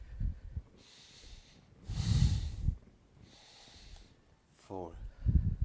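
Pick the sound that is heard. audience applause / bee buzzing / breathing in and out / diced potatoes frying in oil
breathing in and out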